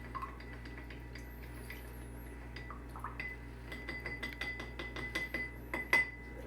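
Light glass clinks and taps from stirring colored water in glasses, irregular and growing a little louder toward the end, over a steady low hum.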